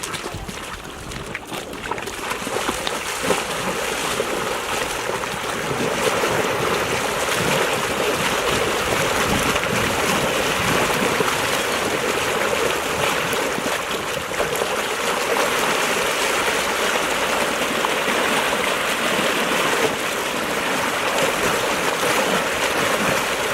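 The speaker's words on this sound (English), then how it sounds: "in really riffly, fast-moving water like that" Fast, shallow riffle water in a valley-floor stream rushes and splashes steadily close by, a loud, unbroken wash with no voices over it.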